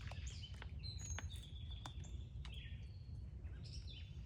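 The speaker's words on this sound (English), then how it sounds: "We've got some birds on the feeder." Small birds at a feeder give scattered faint chirps and short high calls over a steady low outdoor rumble, fairly distant and quiet.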